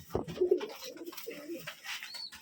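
Pigeons of a square breed coo nearby in a loft, a couple of soft throaty rolling coos in sequence, with faint chirps and light background noise.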